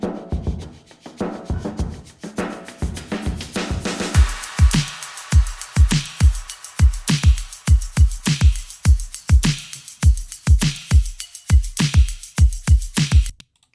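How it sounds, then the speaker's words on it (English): A full drum track for a festival competition song, built from a sampled drum kit: steady punchy kick and snare hits with cymbals in a driving rhythm, loud and continuous, with no voices. "So altogether, the drums sound like this."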